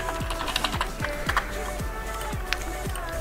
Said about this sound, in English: press U on your keyboard, but be sure to have selected your adjustment layer